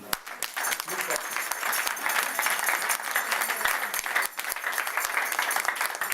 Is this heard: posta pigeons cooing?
no